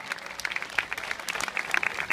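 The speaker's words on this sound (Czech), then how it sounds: "velký potlesk" Applause from a crowd after a dance group's stage performance at a wine festival, dense and steady clapping with sharp individual claps standing out throughout.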